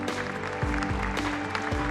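Audience applause at the KF-21 Boramae fighter rollout ceremony at the KAI Sacheon plant, a steady wash of many hands clapping over low rumbling and faint background sound.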